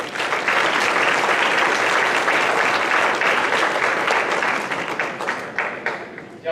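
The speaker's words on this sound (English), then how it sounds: "Y'all would give them another round of applause" A high school winter and spring sports banquet crowd applauds loudly and steadily, the clapping tapering off slightly toward the end.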